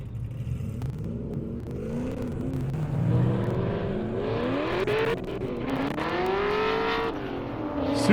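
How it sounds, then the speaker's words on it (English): Supra and Camaro ZL1 race cars run on an airstrip at a racing event, engines revving and rising in pitch through gear changes, one car passing another, loud and sustained with no talk. "Supra going around the outside of the ZL1."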